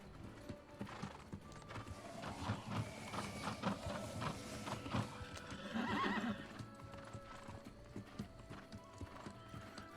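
Horse mount in the video game New World, with steady hoof clip-clop throughout and a clear neigh and whinny near the middle, set against game background sound; no speech.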